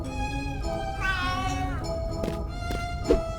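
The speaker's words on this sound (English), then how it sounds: "it's a cat!" A cat in the adventure game A Vampyre Story lets out a single drawn-out meow over a steady tonal background, followed by a few faint clicks.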